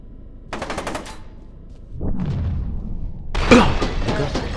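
Gunfire in a video game: a rapid burst of shots, a pause, then a heavy blast followed by a louder crashing boom, all close and punchy with no talk over it.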